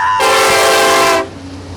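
A loud, close train horn from locomotive 9200 descending at Cajon Summit blares in one sustained, chord-like blast of about a second, then cuts off over low rumbling.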